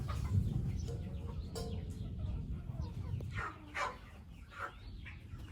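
Chickens clucking inside a newly built chicken coop, a few short soft clucks and calls in the second half over low rustling and background noise, fairly faint.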